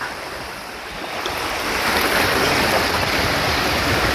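Water rushes steadily through a shallow estate stream in Kannur where children are playing, a constant broad wash that swells slightly after the first second, with no voices heard.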